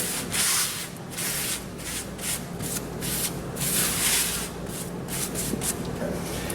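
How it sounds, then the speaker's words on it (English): A paper towel rubs and sweeps loose debris out of a conveyor oven, making soft, repeated scraping and brushing strokes in uneven bursts. The sound is fairly quiet and close. "I'm just going to grab a paper towel, just get some of this loose debris and kind of sweep that out."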